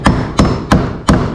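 A hammer drives nails into hurricane ties on a house frame, with four sharp, loud, close strikes in an even rhythm and brief ringing after each blow.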